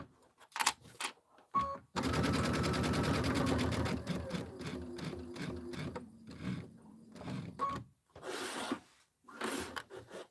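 A Kimberbell County Blooms pillow design stitching out on an embroidery sewing machine: a steady, loud mechanical rattle of needle strokes running several seconds between brief pauses and short taps.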